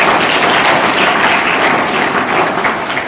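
Audience applause at a tree-planting event held by a tree organisation in Vetale, broad steady clapping from a crowd that fills the whole stretch without letting up.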